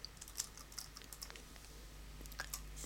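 Typing on a computer keyboard, a quick, uneven run of soft, close key clicks that sounds quiet and continues for a few seconds.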